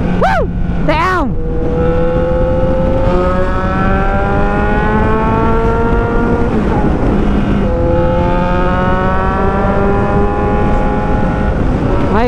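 A Kawasaki Z1000 motorcycle engine revs loudly close by, its pitch climbing and dropping through several long throttle sweeps, while voices carry faintly underneath.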